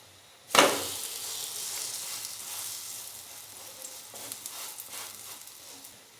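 Bread besan toast goes into a pan on a medium flame with a sudden loud hiss, then settles into a steady, close sizzle with light crackles.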